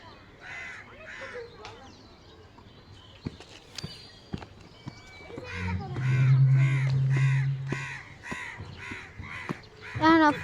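Several crows caw in repeated harsh bursts, fairly close and loud, mixed with footsteps, a low engine drone and people talking nearby.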